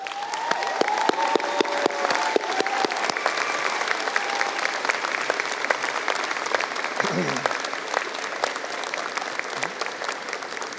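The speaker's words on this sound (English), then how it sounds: "Graduates, let's give them a huge round of applause" A large crowd at a university convocation for health and social development graduates breaks into sustained, loud applause, thick with sharp individual claps and light cheering, holding strong for the whole stretch.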